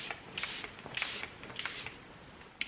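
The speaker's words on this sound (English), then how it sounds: "I'm going in with the Charlotte Tilbury setting spray." Charlotte Tilbury setting spray mists onto a face in three quick hissing bursts, close and soft, evenly spaced about half a second apart in a quiet room.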